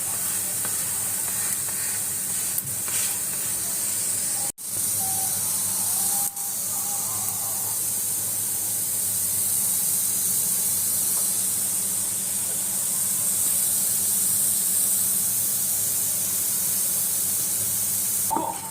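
Thalipeeth flatbread roasting in a pan for a fasting thali, giving a steady, close hiss of sizzling that runs unbroken throughout, with one brief dip partway and no talk over it.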